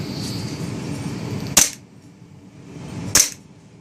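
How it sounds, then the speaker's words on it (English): An airsoft Glock 17 gas blowback pistol with a polymer magazine fires two sharp, snappy pops about a second and a half apart, each a quick crack with a brief hiss, close up over faint background noise. "Let's see if it'll shoot here. Hear it?"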